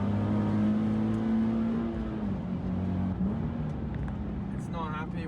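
A stock Nissan 370Z at Sydney Motorsport Park holds steady revs with a droning engine tone that eases and drops slightly, heard from inside the car with a voice talking over it.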